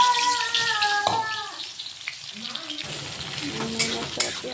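Chopped onions are added to hot oil with marinated meat, setting off a bright crackling sizzle that settles into steady frying, with faint stirring and a short voice at the start.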